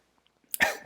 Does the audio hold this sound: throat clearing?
yes